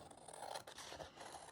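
Scissors cutting out a paper artwork piece for a junk journal, giving a steady, close scraping snip across a second and a half with no voices.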